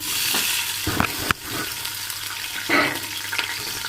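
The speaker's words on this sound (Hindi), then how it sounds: "घी हमारा गर्म हो चुका है। अब हम इसमें प्याज डालेंगे।" Sliced onions hitting hot ghee for aloo chicken, producing a loud, continuous sizzle up close, broken by a few sharp clinks and bursts of spattering while they are stirred in the pan.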